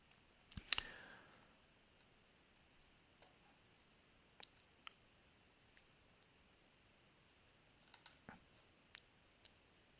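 A computer mouse clicks in a quiet room: a few sharp, isolated clicks spaced irregularly over several seconds, with one louder click near the start and near silence in between.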